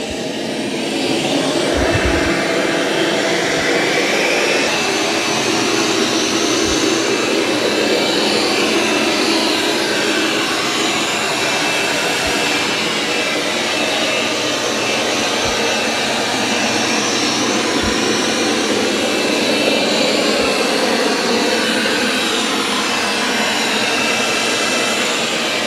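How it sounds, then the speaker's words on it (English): A Dreame robot vacuum drones steadily on carpet for a long stretch, mop pads lifted and side brush spinning, a constant whooshing motor hum with occasional soft bumps and knocks. "It lifted the mop pads and is vacuuming this carpet."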